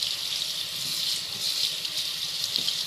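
A kitchen tap runs steadily while food is being rinsed, a continuous hissing splash of water with small bumps and clatters from handling in the sink.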